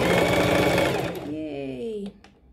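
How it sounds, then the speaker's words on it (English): A sewing machine stitches pleats on a cushion cover with a fast, close mechanical whirring rattle for about a second. It then stops as a voice speaks. "I'm going to stitch the last row with all the pleats facing the opposite direction"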